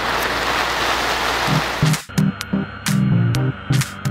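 A fire brigade hose sprays water at a fire station to simulate torrential rain, a loud steady hiss that breaks into choppy bursts mixed with low throbbing hum.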